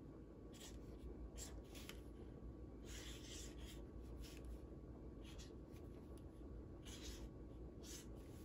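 A pen scratches out the Hebrew word Afikoman on a Passover place card, soft intermittent scribbling strokes in short bursts over a faint steady hiss.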